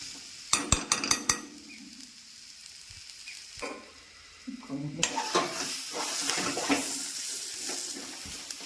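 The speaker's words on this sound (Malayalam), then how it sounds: "നമുക്കിങ്ങനെ ഇതൊന്ന് മൂപ്പിച്ചെടുക്കാം." Tomato mixture for a papaya curry is stirred in a pan, with a few sharp utensil clacks against the metal, then a steady soft sizzle and scraping that fills the second half, close and moderately loud.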